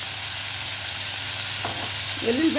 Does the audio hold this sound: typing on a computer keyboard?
no